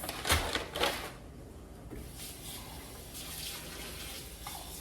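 Tap water runs softly into a sink while rice is washed, with a couple of sharp splashing bursts near the start and then a steady, quiet stream.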